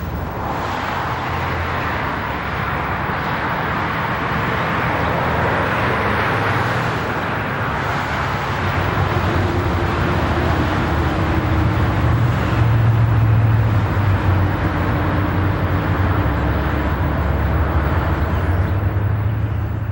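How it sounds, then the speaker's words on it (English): A Conrail yard job locomotive, an SD40 rebuilt as a Dash 2, pulls a cut of freight cars past the East Conway Yard Tower, a steady low diesel rumble with mid-range rolling noise that grows slightly louder partway through. "a yard job gets busy and is viewed as it pulls a cut of cars past the East Conway Yard Tower"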